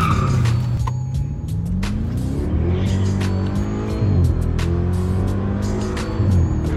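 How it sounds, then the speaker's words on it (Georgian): BMW 650i engine climbing in pitch through the gears and dropping at each shift, with sharp exhaust pops and crackles at the changes, loud and close from inside the car. "მე მარტო გადართვების დროს ფურთხუნი მესმის და მაგარი გადართვის."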